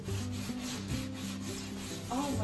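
Sandpaper scrubs back and forth over the wood of a large china hutch being refinished, a rhythmic rasping stroke repeated several times, close and alone without talk.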